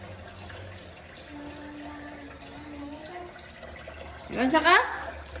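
Tap water running while a baby washes dishes, a faint steady trickle under a voice, ending in a high child's squeal near the close.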